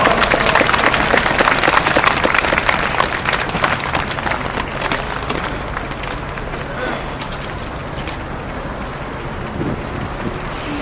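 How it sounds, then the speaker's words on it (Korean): A crowd at an outdoor memorial for the Yongsan disaster claps loudly to welcome the bereaved families, dense steady applause that gradually thins and softens over about ten seconds. "유가족 분들을 모시겠습니다. 힘찬 격려의 박수로 맞이해 주셨으면 감사하겠습니다."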